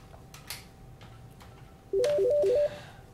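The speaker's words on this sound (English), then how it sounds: "Okay, again, the call's coming in." A ShoreTel desk phone rings for an incoming call with a short, bright warbling trill of alternating tones, loud and close, in a quiet office.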